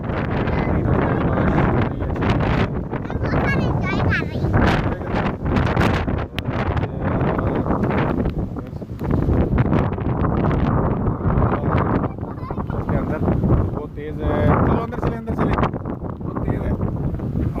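Strong, gusty wind during a storm with heavy rain roars and buffets the microphone continuously, with rustling and flapping noise throughout and a few faint voices underneath.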